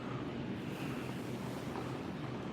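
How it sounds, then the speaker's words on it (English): A waterfall heard from a hotel balcony in Ningguo, Anhui, a steady, dense broadband rush with no breaks, filling the scene at moderate level. "There's a waterfall over there. I can hear it from here."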